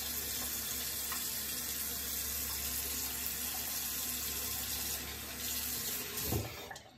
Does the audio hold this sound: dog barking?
no